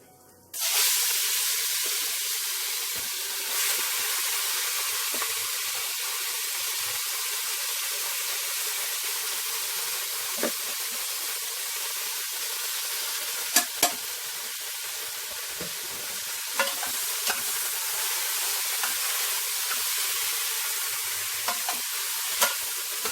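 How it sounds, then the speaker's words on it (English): Turkey neck stewing in a pot during outdoor Jamaican cooking: a loud, continuous sizzle and steamy hiss fills the scene, broken by occasional sharp clinks and scrapes of stirring, close and with no talking. "So I'm just stirring the turkey neck"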